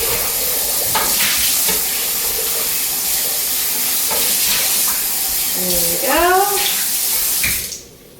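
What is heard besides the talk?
tap water rinsing out a blender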